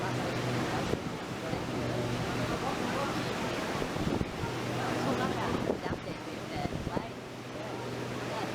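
Wind gusts across the microphone at a canal lock on a cold, wet, blustery day, a continuous broad rushing roar with uneven buffeting bumps throughout.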